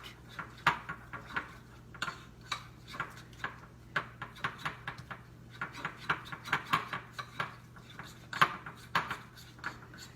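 Buttercream frosting, vanilla with a bit of chocolate, being stirred in a bowl: steady clinking and scraping of a utensil against the bowl in an irregular rhythm over a low hum.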